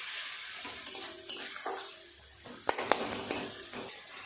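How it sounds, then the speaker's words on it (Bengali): A utensil stirs spices with onion and tomato in a pan, making scattered scraping clinks against the metal over a soft low sizzle. "খুব ভালো করে মশলাটা পেঁয়াজ টমেটোর সাথে এইভাবে মিশিয়ে নেব"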